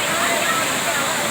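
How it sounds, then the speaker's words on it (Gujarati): Clear water streaming at Morzar near Osam hill station, a short, dense rush of flowing water that holds steady and fairly loud. "પાણીનો પ્રવાહ અવિરત અત્યારે ચાલુ છે"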